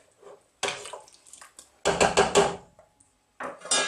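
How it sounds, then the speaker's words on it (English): A spoon scrapes and sloshes through chicken stew with canned chopped tomatoes, bacon and chorizo sausage in a pot, coming in short wet bursts separated by quiet gaps, close and moderately loud. "Give that a stir."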